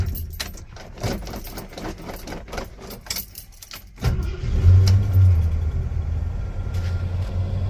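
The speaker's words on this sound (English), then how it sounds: "I'll go ahead and start it up now and take it for a drive" A 1980 Jeep J10 Honcho survivor truck is started up: keys jangle and click first, then the engine cranks and catches, settling into a loud, rumbling idle close by.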